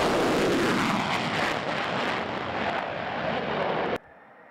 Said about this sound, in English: people in the Northland and the UP could hear the jets